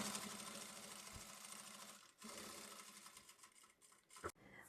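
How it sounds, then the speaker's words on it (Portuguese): A sewing machine runs steadily, stitching tricoline fabric on a lipstick-holder pouch sewing project, with a brief pause near the middle and no talk over the whirring. "E a gente vai passar uma costurinha aqui em cima."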